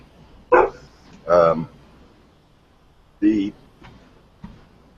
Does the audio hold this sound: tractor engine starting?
no